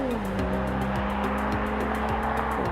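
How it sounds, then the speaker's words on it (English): A 2019 Porsche Macan S with its new V6 engine hums steadily while driving, a smooth sustained drone with shifting tones and a constant road rush, close and even in level. "The new V6 also sounds a tad bit better than the one in the outgoing car."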